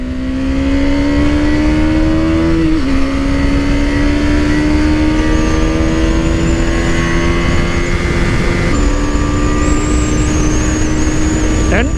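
A KTM Duke 250 BS6 motorcycle engine drones loud and steady, with its pitch climbing through gear changes and small dips while the bike runs at speed, and faint wind noise above it.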